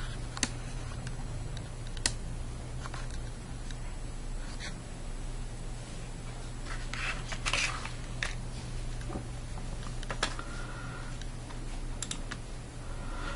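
Typing on a computer keyboard connected to a Raspberry Pi: scattered light key clicks and a few sharper taps over a steady low electrical hum, close by and with no talk.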